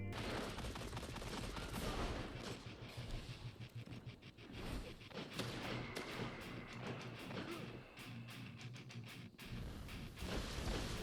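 Rapid bursts of gunfire from an exotic weapon in Destiny, a close, dense string of shots in quick succession with short pauses, thumps mixed in, continuing for the whole stretch under game background noise.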